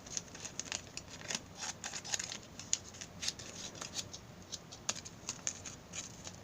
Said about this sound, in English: Fairly nice scissors. Let's do a little test.